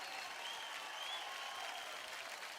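Studio audience of a Marathi TV dance show applauding, a dense even wash of clapping, steady and sustained without breaks.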